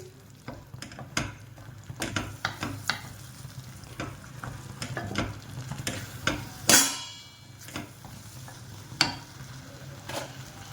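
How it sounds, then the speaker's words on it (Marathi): Spinach masala for an egg and spinach curry is sautéed in oil in a pan, with a steady soft sizzle broken by repeated scraping stirs and a few sharper clinks of the spoon against the pan. "आता याला तेल सुटेपर्यंत चांगलं परतायचंय."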